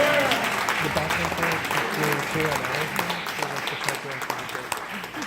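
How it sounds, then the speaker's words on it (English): Audience applause at a 2017 New York City candidates forum, a broad steady clapping wash with a voice speaking over it. "I love the enthusiasm, but the clapping is just cutting into your candidates' time."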